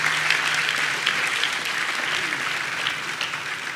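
Audience at a school graduation ceremony applauding teachers and staff, a steady sustained wash of many hands clapping at moderate distance, with faint crowd murmur beneath.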